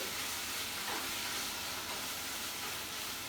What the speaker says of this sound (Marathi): आता हे परतून घ्यायचं छानपैकी